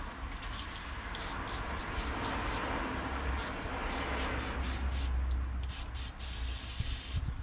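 Repeated bursts of aerosol cleaner spray hiss onto the parts of a disassembled XD40 subcompact pistol, short and long pulses close by, over a steady low background rumble.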